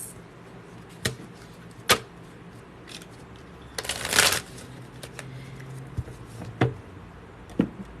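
Tarot cards being shuffled and cleared, scattered sharp card slaps and one longer riffling burst over a quiet room, close and fairly faint.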